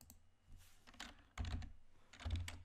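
Keys clatter on a computer keyboard as code is typed into the Google Earth Engine code editor, a close, quiet burst of rapid, uneven clicks with a few heavier strokes.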